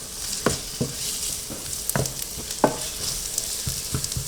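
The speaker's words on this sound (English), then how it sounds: "render the fat out of the sausages and make it more aromatic as well when you fry it" Sausages fry and sizzle in a pan with a steady hiss, punctuated by periodic stirring scrapes and clicks, close and alone.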